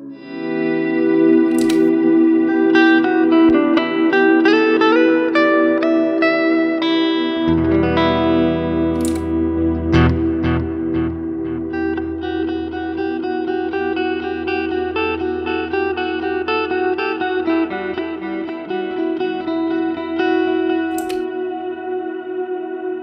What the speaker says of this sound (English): I just clicked off the effects loop and the trails are there.